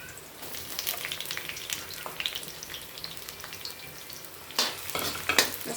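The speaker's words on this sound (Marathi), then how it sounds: "मस्तपैकी फुल गॅसवर आपल्याला हे फ्राय करून घ्यायचे आहे" Onions browned in oil, then capsicum and carrot added and fried on full flame, giving a steady crackling sizzle with spatula scraping and stirring, and louder bursts near the end.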